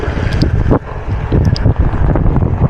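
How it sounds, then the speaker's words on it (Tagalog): Strong wind buffets a microphone in loud, roaring gusts during a mountain bike ride, with one brief dip partway through and no voices. "Lakas ang hangin ah."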